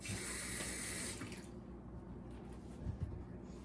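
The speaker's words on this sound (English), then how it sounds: "I'm gonna put a little water on my hands" Tap water runs into a sink for about a second to wet hands while kneading peach cobbler dough in a home kitchen, a steady broadband rush that cuts off, followed by faint handling sounds.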